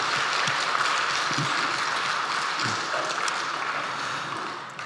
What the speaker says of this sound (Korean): 우리 하나님께 우리 감사의 박수 올려드립시다.